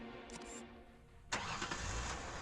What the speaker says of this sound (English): Jean quickly revved the engine.